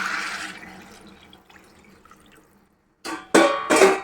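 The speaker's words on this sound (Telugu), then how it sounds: "ఇప్పుడు కొంచెం వాటర్ పోసేసుకుందామండి." Water poured into a pot of rice for paneer biryani, a brief soft trickle at first, then after a short silence a louder, splashing pour in two close bursts, with no talking.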